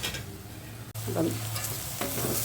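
Onions for a Kerala-style chicken curry fry in a pan with a steady close sizzle, broken by short scraping stirs of a spoon against the pan.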